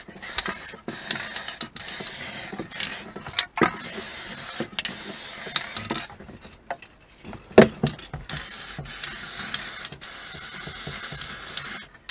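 Cavity wax sprayed inside a Classic Mini door comes in repeated short hissing bursts separated by brief pauses, with a few clicks and knocks from the applicator, close and moderately loud, with no talking.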